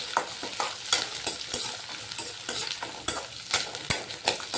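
Small onions fry in a pan for tomato chutney. A crackling sizzle is broken by frequent sharp scrapes and taps of a spoon stirring against the pan, close and fairly loud, with no talking.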